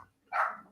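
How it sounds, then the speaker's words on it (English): A single sharp dog bark, close and fairly loud, rising abruptly after a quiet moment and fading quickly. "my dog's going crazy"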